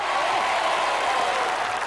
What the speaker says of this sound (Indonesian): tepuk tangan untuk Mbak Ulfa